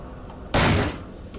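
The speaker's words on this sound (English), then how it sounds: "It's jammed, but I might be able to force it open. I would need to ram it a couple of times." A jammed door in the horror game Black Rose gets rammed once, a single loud, close crashing thud that lingers briefly before fading back to quiet room tone.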